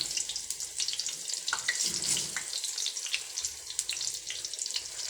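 Saba bananas go into hot oil in a pan and sizzle, a close, hissing crackle that keeps bubbling with small pops throughout, heard alone without talking.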